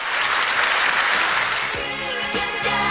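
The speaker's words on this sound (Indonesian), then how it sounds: "tepuk tangan sekali lagi dong" A studio audience at an Indonesian televised talk show on anti-corruption applauds loudly and steadily, a dense wash of clapping that fills the space, with a voice briefly audible toward the end.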